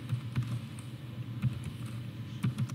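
Soft, steady keyboard typing nearby, with clusters of keystrokes in an irregular rhythm over a low background hum.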